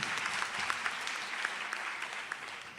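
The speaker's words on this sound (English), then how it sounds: "I think you must give yourselves a round of applause" A graduation audience at a TVET college ceremony claps steadily in a dense, continuous round of applause, with no talk over it.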